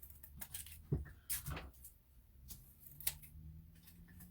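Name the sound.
trimming with scissors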